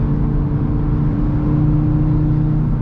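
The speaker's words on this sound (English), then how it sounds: "so again, closed, and I'll downshift" An Audi RS3 with its exhaust valves closed downshifts, giving a steady, close engine drone with a low rumble and a slight rise in pitch. No one speaks.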